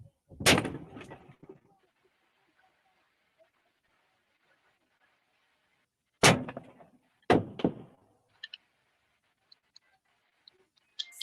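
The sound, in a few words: gunshots in the distance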